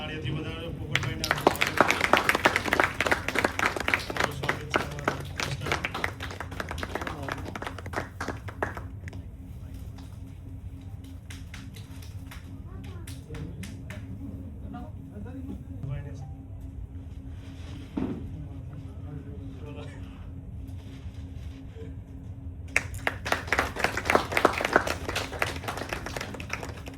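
An audience in a hall applauds Popatbhai Ahir at a meetup: a burst of clapping at the start, a quieter stretch with people talking, then another round of clapping near the end.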